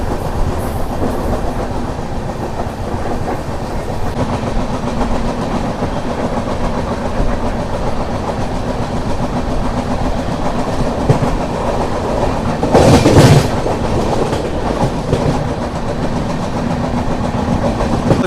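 A passenger train with new LHB coaches rolls steadily along the rails beside hills, a continuous loud rumble with rhythmic clatter and a brief louder burst near the end.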